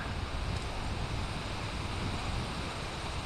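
Wind hisses steadily through maple and cherry trees in a mowed yard, a broad, even rushing with no pauses and no voices.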